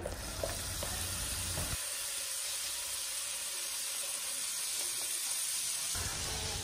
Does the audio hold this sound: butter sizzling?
yes